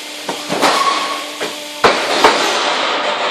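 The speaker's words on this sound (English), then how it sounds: "This is your big hammer." A post-driving machine hammer strikes sharply a few times at uneven intervals over a steady engine hum, loud and close, in Timaru, New Zealand.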